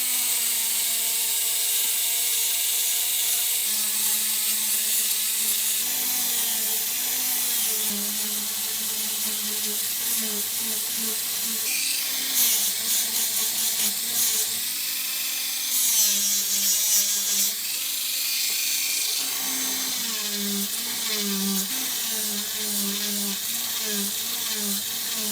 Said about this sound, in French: on va pouvoir passer au polissage de l'entièreté des pièces